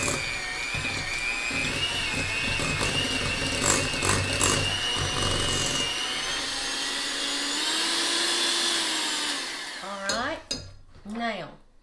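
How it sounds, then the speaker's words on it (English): An electric hand mixer whirs continuously for about ten seconds, mixing no-bake Butterfinger pie filling in a bowl with a steady, close motor drone. It cuts off near the end, leaving a few brief clinks. "I'm going to mix this with my hand mixer just to kind of give it a little start"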